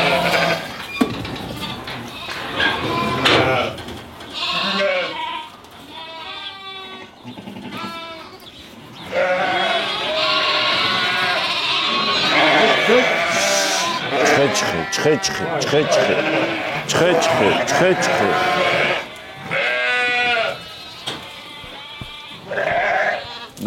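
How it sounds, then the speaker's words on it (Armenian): A flock of lambs bleats repeatedly, overlapping high, wavering cries close by, with a busy, continuous chorus throughout. "Բոլոր գառները լսնում ենք դե, որ սրանք դուս են գալու"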